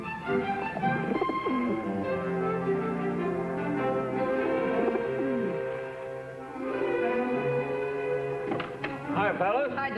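Band-tailed pigeons coo in low, soft repeated notes while people talk over them nearly throughout.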